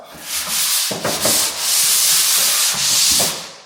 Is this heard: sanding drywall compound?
yes